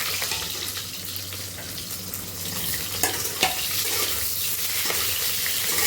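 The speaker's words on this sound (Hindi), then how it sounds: "अब हमें इसी में हमें अपने प्याज को भूनना है हल्का।" Onions fry lightly in a pan with paneer, giving a steady close sizzle with occasional stirring clinks and scrapes.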